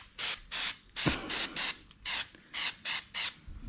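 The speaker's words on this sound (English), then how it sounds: "Dust-free spray booth." Repeated short bursts of spraying in a dust-free spray booth while refinishing a 1951 Chevy Fleetline hood, about nine hissing blasts with brief pauses between, close and fairly loud, with a small knock partway through.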